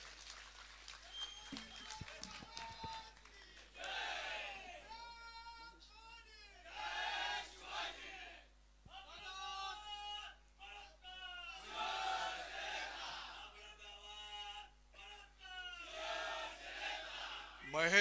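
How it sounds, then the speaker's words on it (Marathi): A crowd at a political rally cheers and shouts in repeated swelling bursts, many voices rising together over a public address system with short lulls between waves. "एकदा हात उंच, जोरदार टाळी."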